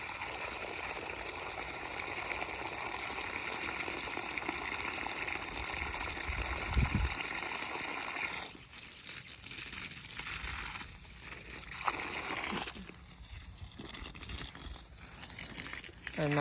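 Water sprays steadily from a hose while garden plants are watered at a Thai home, a continuous rushing hiss with brief breaks where the flow shifts or pauses.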